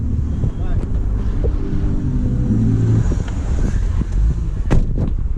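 Riding inside an Uber car brings a loud, steady low engine and road rumble mixed with wind buffeting on the microphone, while voices talk faintly over it.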